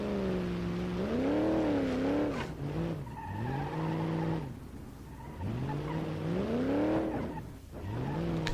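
A Moonhawk car in BeamNG Drive races with its engine revving hard in rising and falling sweeps, tires squealing between shifts, loud and close with no talk, across several acceleration bursts.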